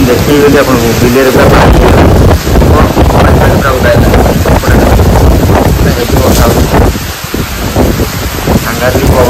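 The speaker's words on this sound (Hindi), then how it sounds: "सांघातिक पवन वर्षा" Strong wind and heavy rain lash a riverside spot in a storm, a dense roaring wash of gusts buffeting the microphone and steady rainfall, loud and continuous throughout with a person talking over it.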